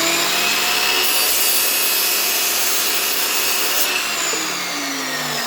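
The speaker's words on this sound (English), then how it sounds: "the kind of dust that this makes without using extraction. So it's going to be quite loud" A Lumberjack chop saw slices through wood with no dust extraction, giving a loud, steady, close whine and rasping cut that holds for several seconds before easing slightly toward the end.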